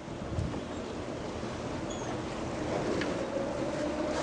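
A fishing boat on open water with its engine running, a steady low rumble and wash that builds slightly as it is put in gear, with wind in the background.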